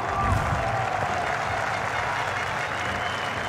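Crowd applause and cheering at a rallycross event at Lohéac, a steady wash of clapping that holds evenly for a few seconds with no pause.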